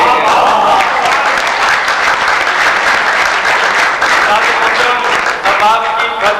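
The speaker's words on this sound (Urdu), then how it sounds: "آپ کی بھرپور تالیوں کی گونج میں" A crowd at the Pakistan Association of the Blind's silver jubilee opening ceremony breaks into loud, full applause that stays dense throughout and thins slightly near the end, with some talk faintly under it.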